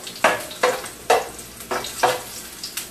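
Eggs frying in a pan, a crackling sizzle with about six sharp popping bursts at a steady, close rhythm over a soft background hiss.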